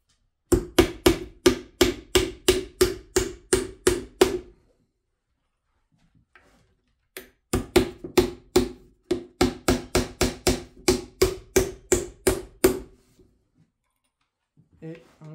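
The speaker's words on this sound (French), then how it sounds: "Donc je vais mettre un clou sur l'extrémité" Nails are hammered into a wooden birdhouse in two runs of quick, sharp, evenly spaced blows, close and loud, with a silent pause between the runs.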